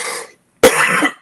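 A person with a lingering cough of several weeks coughs twice up close, a short hack followed after a pause by a longer, harsh, rasping cough.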